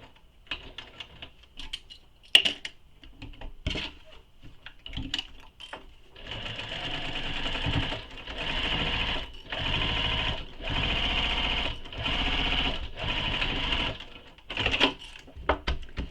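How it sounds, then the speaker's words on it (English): A sewing machine runs around the lining of a quiver sling in a series of close, even stitching bursts with brief pauses, preceded by scattered clicks and handling noises. "So I'm just sewing all the way around, as I mentioned, making sure everything stays lined up nicely."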